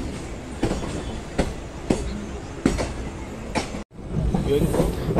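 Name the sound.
train departing Panvel station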